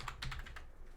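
Keys clatter quickly on a computer keyboard as code is typed, a short burst of about five soft clicks heard close but quietly.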